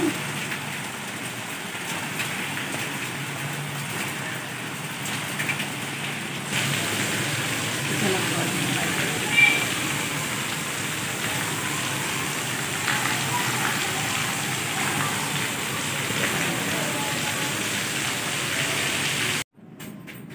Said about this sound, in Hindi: अभी जी बन रहे हैं गर्मा गर्म पकोड़े।